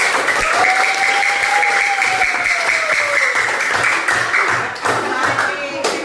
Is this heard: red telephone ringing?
no